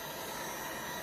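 Heat tool blowing hot air onto resin, a steady close whooshing roar of air with no talking over it.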